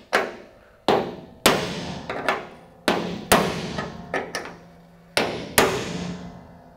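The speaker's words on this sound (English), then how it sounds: "you get your transfer bit and your hammer again, and you can transfer these holes" A hammer taps a transfer punch to mark holes on a custom firewall roll bar bracket for a 1960–66 GMC/C10 truck, giving about eight sharp metallic strikes at irregular intervals, each ringing briefly.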